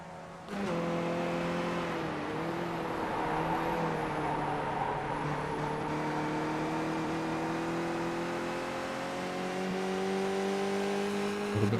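Race cars in a racing video game at Watkins Glen International screaming through the gears, a loud sustained engine whine rising and dipping in pitch as the cars accelerate uphill out of a corner, steady for the whole stretch.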